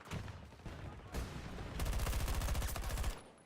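Rapid bursts of video game gunfire, a sniper exchange in a multiplayer shooter, crackle close and loud, with a dense sustained volley in the last stretch before cutting off.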